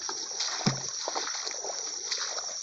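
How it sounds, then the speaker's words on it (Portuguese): A single splash from a lambari fish leaping in floodwater, a short close burst over a steady outdoor backdrop of insects and faint ambient sound. "Olha, lambari pulando aqui"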